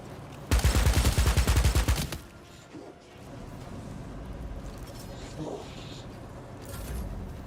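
Rapid burst of gunfire in the Warhammer 40K Dark Heresy game, a loud rattling volley lasting about a second and a half, followed by quieter ambient battle noise and faint distant sounds.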